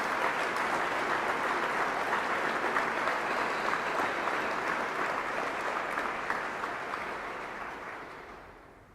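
Sustained audience applause at a Louisville remembrance ceremony for Old National Bank victims, a dense steady clapping crowd that gradually fades toward the end.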